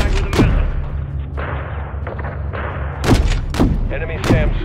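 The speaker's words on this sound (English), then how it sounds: "Gunner, drop a missile on that SAM site." A missile strike hits a SAM site in Call of Duty Modern Warfare III (2023), with several loud whooshing launches and booming impacts over a low aircraft drone and faint radio chatter.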